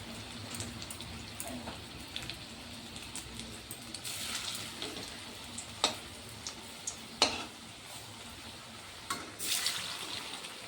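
Potato balls frying in hot oil, a continuous bubbling sizzle close by, with occasional louder spatters and scraping clinks from a utensil as they are turned.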